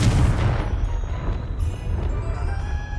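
Confringo explosive spell in Hogwarts Legacy: one loud booming blast at the start whose rumble decays over a few seconds, with no voices.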